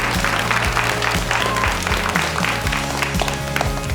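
An audience applauds steadily for music teacher CJ Shaw, 2020 ARIA Music Teacher Award nominee, as dense clapping continues throughout under a steady tonal music bed.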